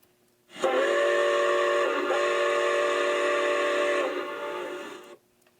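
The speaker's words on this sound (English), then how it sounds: "For example, I can blow a digital whistle" A single sustained digital train whistle blast from an American Flyer talking station, electronic in tone, sounds for about four seconds with a slight dip midway, then cuts off.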